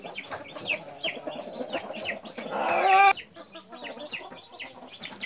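Naked neck chicks and hens cluck and peep steadily at close range, with overlapping calls and a brief louder flurry of fowl noise near the middle before the clucking settles again.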